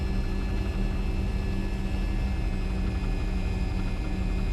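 Jet engines of an MD-80 in a flight simulator run at full takeoff throttle, a loud, steady roar with a broad rumble and constant whine held evenly throughout, with no talk over it.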